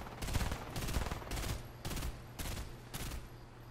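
Gunfire in Fortnite Reload, a squads Zero Builds match: six heavy, booming volleys in a regular rhythm, each a short burst of rapid shots, loud and close with no talk over them.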